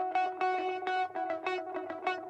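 An electric guitar played through fuzz distortion and chorus pedal plugins in Logic Pro X, a quick series of gritty, buzzing strummed notes with a wavering, doubled shimmer, loud and alone.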